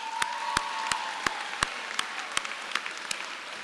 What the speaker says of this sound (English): I just want to give a round of applause to the basketball team for 7th and 8th grade year.